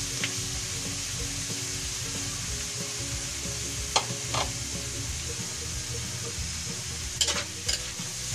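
Chicken frying with mixed vegetables in a pan makes a continuous sizzle, and a utensil stirring the pan scrapes and clicks every so often, with a few sharper knocks near the end.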